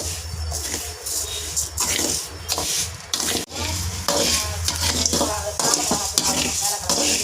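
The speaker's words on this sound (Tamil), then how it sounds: "பாதி பாதியாக போட்டு வறுத்துக்கடா நிறைய இருந்தா வறுக்க கஷ்டமாக" Black rice dry-roasting in a pan, the grains rustling and scraping under constant stirring with occasional metallic clinks, a continuous busy texture up close with a low background hum.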